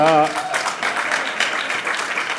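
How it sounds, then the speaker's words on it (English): Audience applause at a 2006 election-season political speech: a steady wash of crowd clapping that holds for a couple of seconds after a brief voice at the start. "You can clap all you want here."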